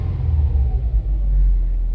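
A 2011 Subaru WRX fitted with a lightweight crank pulley, its engine rumbling close by as the throttle is blipped a few times, short low surges rising and falling over a steady idle.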